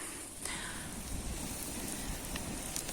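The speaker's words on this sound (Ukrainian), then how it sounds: "Дощ все сильніше і сильніше, а ми якраз розпалили мангал." Steady rain falls outdoors on surfaces around a freshly lit barbecue grill, a continuous dense patter with scattered louder drops, no talking.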